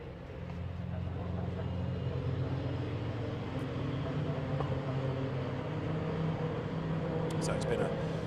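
Ginetta Junior race cars at Donington Park, turning into Coppice corner: a steady, fairly loud engine drone under commentator talk, sustained throughout with a rise as the cars pass.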